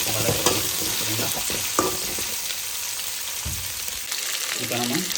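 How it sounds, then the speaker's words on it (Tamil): Chopped vegetables for sambar sauté in a pan, a continuous close sizzle broken by repeated stirring scrapes and clatters. "கொஞ்சம் நேரம் நம்ம காய்கறியை வதக்குறோம்."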